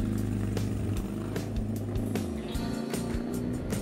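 A motorcycle rides through chaotic, dense Manila traffic in the Philippines. A steady, close engine drone runs throughout, with other vehicles rumbling around it and no talking.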